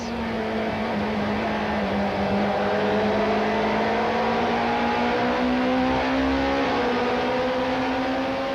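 1995 Super Touring race cars run at Kyalami along the old pit straight, a loud sustained engine drone with rising and shifting pitch as the cars pass together.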